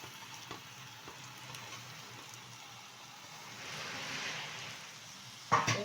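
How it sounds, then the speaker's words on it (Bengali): Leftover soaked rice (panta bhat) goes into vegetables frying in a pan, giving a steady soft sizzle that swells midway, then a brief louder clatter at the end. "এখন দিয়ে দেবো এর মধ্যে বেঁচে থাকা বাসি ভাত, পান্তা ভাত"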